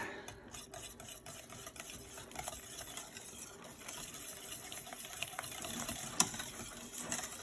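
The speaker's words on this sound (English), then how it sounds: "And just give that a nice big stir." A spoon stirs pecorino cheese into a thick béchamel sauce in a pan, giving a steady, close scraping and swishing that runs on without pause and grows slightly louder toward the end.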